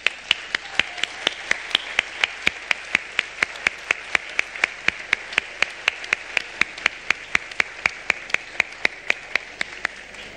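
An awards gala audience gives the musicians a round of applause, with many hands clapping in a steady, moderately loud patter and sharp individual claps standing out, continuing without letup.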